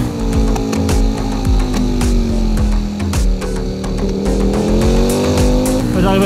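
A Ducati Panigale V4 SP motorcycle engine accelerating on the autobahn: a loud, close, continuous high-revving roar that climbs steadily in pitch, with heavy wind rush and no talking.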